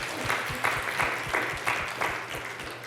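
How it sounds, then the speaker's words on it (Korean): A church congregation claps in a steady, even rhythm during a Sunday service, roughly three claps per second, filling the room together. "우리 박수 한번 올려드릴까요?"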